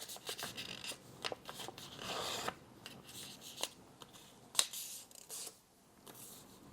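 Sheet of paper for a 3D paper star being folded diagonally and unfolded, a quiet close-up run of soft crinkles, rubs and brief crisp creasing snaps spread irregularly throughout, with no talking.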